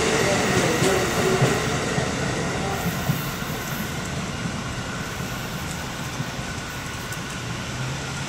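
A train rolls past on a railroad on a rainy day, a loud, steady rumble and rush of wheels on rails that holds for the whole stretch with faint squeal and clatter, close by and without talk.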